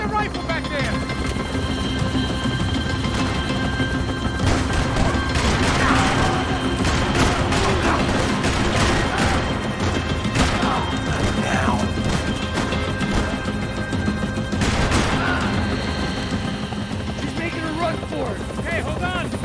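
Rifle gunfire in the video game Max Payne 3, a dense sustained barrage of shots and crashing impacts mixed with shouting voices throughout.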